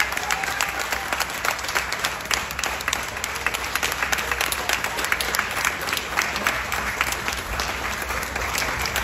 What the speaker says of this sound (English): Let's give Brandon one more big round of applause.